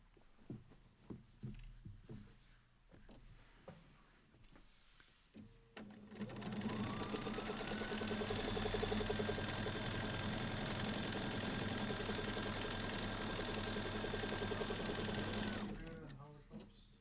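A sewing machine stitches free motion quilting in a long steady run, loud and close, starting after a stretch of talk and stopping near the end, with a rising pitch as it speeds up.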